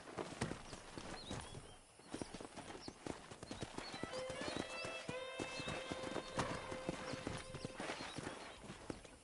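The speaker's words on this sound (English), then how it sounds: "That ranch hand said there's a pack of wild horses nearby." Wild horses in the Red Dead Redemption video game, with steady clip-clop hoofbeats of several animals moving together, close and loud, plus a neigh partway through and some faint talk in the background.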